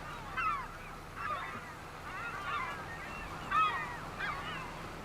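Birds in Farming Simulator 25 give goose-like honking calls in repeated short bursts, about five or six spaced across a few seconds, moderately distant over a low steady hum.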